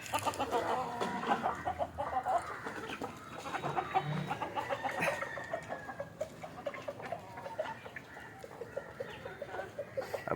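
Several native country chickens cluck and cackle in a busy, overlapping chorus, steady throughout and fairly close, with the occasional louder squawk.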